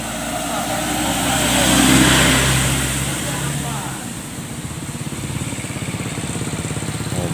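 Vehicles, including a loaded L300 van, cross a slippery bridge, engines droning and swelling as they pass close by, then settling into a rough, steady idle-like rumble, with people talking over it.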